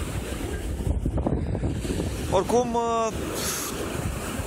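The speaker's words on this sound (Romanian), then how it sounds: "sunt mai mici valurile" Sea waves at Vama Veche beach wash in as a steady broadband rush with wind across the microphone, while a person talks briefly over it.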